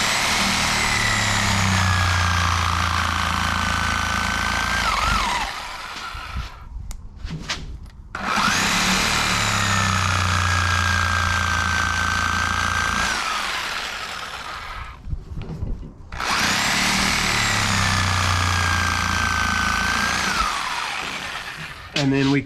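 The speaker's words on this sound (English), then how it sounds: "we're taking the front edge off, and we're just using the Sawzall" A Sawzall reciprocating saw cuts through a 50 inch Mega tire on a monster buggy. It rasps and whines loudly in three long bursts, with short pauses between them.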